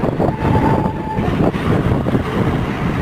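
A train rumbles at a railway station beneath an overbridge, a loud continuous low roar with a brief steady tone partway through, and no voices.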